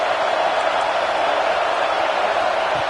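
Football stadium crowd roaring during a red zone defensive stand, a dense, steady wash of cheering voices filling the whole moment without pause.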